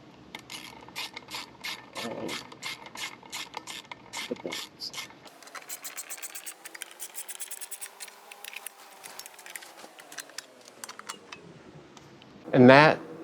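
Clicking ratchet tightening the carburetor on a 1975 John Deere 300 lawn tractor, steady runs of close, sharp clicks, pausing midway and resuming, with a brief louder clatter near the end.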